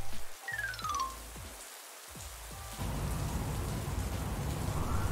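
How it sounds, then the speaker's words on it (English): Steady rain pours down with a low rumble of storm underneath, preceded by a few brief clicks and tones before the downpour fills in. "The sound of the storm"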